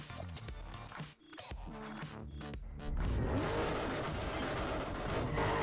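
A car with a 2JZ engine races in Need for Speed Underground 2, its engine droning with tire squeal and skidding before the revs surge loud and sustained in the second half.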